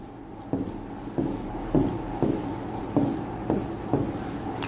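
Pen strokes tap and scratch on paper while a chemical structural formula is drawn by hand, a steady series of about seven short, distinct marks, close and fairly quiet.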